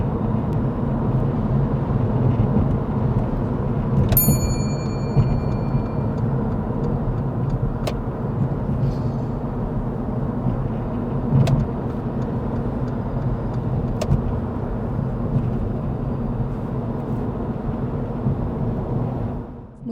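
A car driving at high speed toward a roundabout during a driving lesson, with steady engine and road roar from inside the cabin, constant and fairly loud throughout, and a few faint clicks and a short tone.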